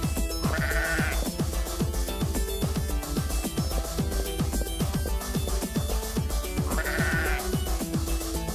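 Small sheep bleat in the video game Minetest, two clear bleats about six seconds apart. They sound over a steady, busy game background of rhythmic tapping and music, with no talk.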